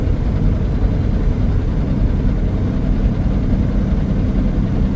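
A Detroit Diesel Series 60 truck engine runs in a steady, deep rumble that stays loud and unchanging throughout, with no voices.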